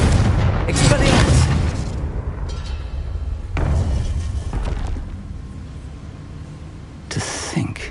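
Confringo and Expelliarmus spells cast in the video game Hogwarts Legacy: loud booming magical blasts with crackling bursts, a heavy hit near the start, another mid-clip and a sharp burst near the end, over a continuous rumbling backdrop.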